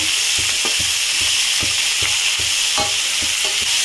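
Broad beans stirred and sautéed in a hot pan, with a steady loud sizzle and a regular rhythm of utensil scrapes and knocks, close up and without voices.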